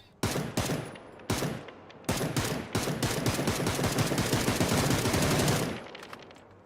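AK rifle gunfire in PUBG: several sharp single shots, then a sustained loud automatic burst lasting a few seconds before it stops.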